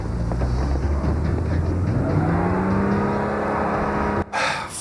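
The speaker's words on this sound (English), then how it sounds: "Edward, stop the car!" A car engine revs and pulls away, a rising whine over steady road rumble that swells then cuts off abruptly near the end.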